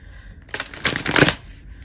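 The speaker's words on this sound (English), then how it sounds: "I'm just going to shuffle once because we just lost like a half a deck." A deck of cards being shuffled once, a loud, close riffle of crisp flapping paper lasting under a second, alone in a quiet room.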